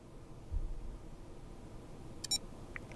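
A Samsung Galaxy SmartTag 2 gives a single short, bright electronic beep while its button is held and battery inserted during a factory reset, sounding once near the end over a quiet room hiss, with a faint tick after.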